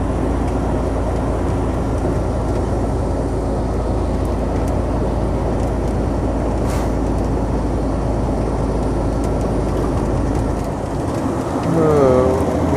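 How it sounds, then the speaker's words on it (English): Rain drops hit the windshield of a moving JB Hunt truck on a mountain road, a soft scattered patter under a steady loud engine and road drone, with a voice speaking near the end. "Oh, it's already raining. Got some drops coming on the windshield."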